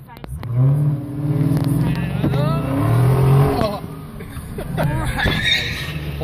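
A Dodge Charger's 6.4-liter V8 Hemi revs loudly and close at an auto show, its rising and falling engine note running steadily under the hubbub of a crowd, with people talking nearby.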